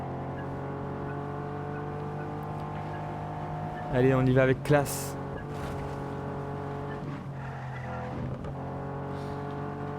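A car in the video game Just Cause 3 hums with a steady engine drone, a brief burst of tire squeal and impact noise midway, while someone talks over it.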